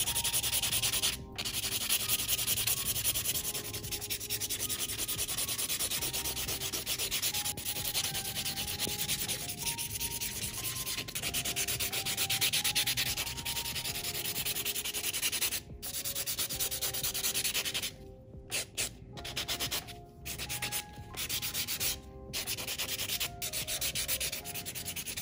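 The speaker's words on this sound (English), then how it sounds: "I'm just going to buff the nails, and this is gonna get rid of all those scratches" A nail buffer scrubs steadily across polygel nails, a close, continuous soft rasping that runs on for a long stretch, broken near the end by a few brief pauses.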